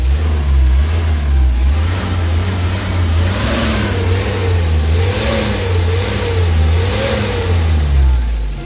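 Diesel vehicle engine revved repeatedly in rising and falling pulses over a steady loud low rumble, close and continuous, during a smoke-belching emissions check.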